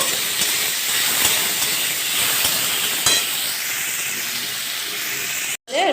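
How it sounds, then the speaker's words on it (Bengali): A steady, loud hiss of chopped onions sizzling in hot oil for an egg curry, with faint scraping clicks, cutting out briefly near the end. "এবার পেঁয়াজটাকে আমরা ভালো করে ভেজে নেবো"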